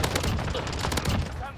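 Rapid P90 submachine gun fire in Call of Duty: Modern Warfare, dense bursts of close, loud shots running throughout with a voice talking over the gunfire.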